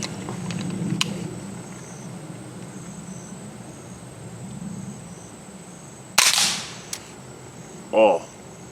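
Suppressed gunshot from a rifle fitted with a Griffin Armament Paladin 5 suppressor, a single sharp muffled crack at about six seconds, followed by a second short burst near the end, over quiet outdoor insect ambience.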